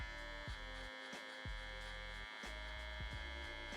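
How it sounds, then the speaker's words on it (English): Electric hair clipper running with no guard and the lever fully open while cutting a bald fade, a steady close buzz with brief dips and bursts as the blades move through hair. "I'm gonna go ahead and still leave the clipper with no guard and open up my lever fully"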